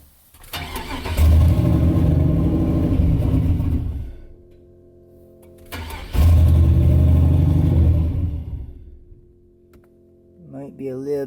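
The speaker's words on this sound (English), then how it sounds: "I'll start it up and see if it actually starts and idles without any issues." Budget turbo LQ4 V8 swapped into a Ranger cranking and firing twice, each start surging into a loud rough roar for a couple of seconds before settling to a quieter idle, close by.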